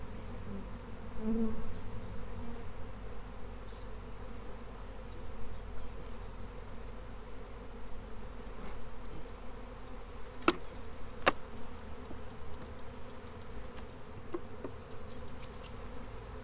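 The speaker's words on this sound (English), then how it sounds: "Now we're going to shake these bees in here." A dense, continuous buzz of many honey bees from a swarm being shaken into a swarm trap nearby, with a couple of sharp knocks partway through.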